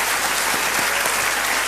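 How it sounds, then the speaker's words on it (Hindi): Studio audience on a televised quiz show breaking into dense, steady applause, loud and sustained for the whole short stretch with no voices over it. "तालियों के साथ इनका अभिनंदन।"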